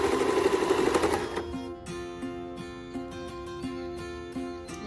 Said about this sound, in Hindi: अब हम इसको इस तरह से बनाते जाएंगे और ये देखें इस तरह से हम सिलते जाएंगे इसको।